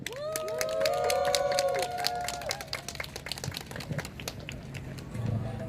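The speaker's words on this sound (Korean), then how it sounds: "다시 한번 큰 박수로 환영해 주시기 바랍니다." Crowd at an outdoor street gathering in Jeonju clapping to welcome a speaker, moderate applause mixed with whistles and cheering that thins out into scattered claps.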